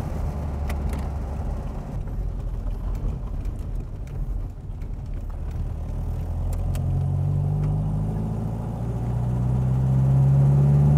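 An old car rumbles along with a deep, steady engine drone and road noise as it pulls out onto an asphalt road, the engine note rising and growing louder near the end as it accelerates.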